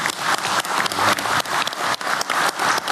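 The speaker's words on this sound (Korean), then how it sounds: "우리 대통령님과 국민을 위해 박수 한번 크게 보내주시기 바랍니다" Audience at a formal event in Korea gives a burst of dense, steady applause that fills the whole few seconds, with no voices over it.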